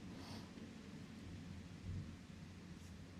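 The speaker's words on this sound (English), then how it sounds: "I'm not sure if that's gonna remove the thunder outside my house right now" Thunder rumbles faintly outside a house, a low continuous roll with a slight swell midway, heard dimly through walls over steady background hiss.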